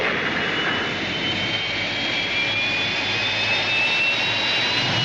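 A rescue spaceship engine from a science-fiction TV series drones as a steady, loud roar with a faint rising whine layered on top, continuous and unvarying with no voices over it.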